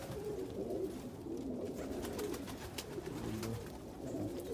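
Pigeons coo softly and steadily in a close, enclosed loft, with faint rustling and low background hum throughout.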